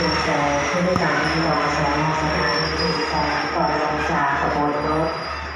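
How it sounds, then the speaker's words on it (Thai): Express train 108 rolls into a station platform with a loud continuous rumble and rhythmic wheel thumps, while a public announcement plays over it. "ที่เข้าเทียบชานชลาสถานีขณะนี้เป็นขบวนรถเร็วเที่ยวล่องขบวนที่ 108"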